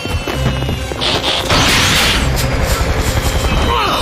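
Cartoon fireworks exploding in a loud barrage of booms and crackling bursts, dense and continuous, with scattered hissing sparkle.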